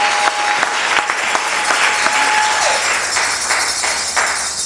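A church congregation applauds and cheers at a French-language service, dense clapping filling the room with a few sharp individual claps and a brief tonal ring standing out.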